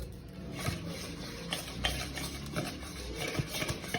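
Butter whisked in a bowl for Jaffna-style peanut biscuits: quiet, quick scraping and tapping strokes of a whisk against the bowl, fairly even in rhythm and close by, with no talking.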